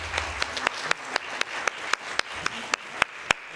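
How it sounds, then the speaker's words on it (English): Sparse applause from a small audience at a candidate forum, individual claps snapping out one by one in an uneven rhythm, fairly close and moderately loud with no talk over it. "Let's give them a round of applause."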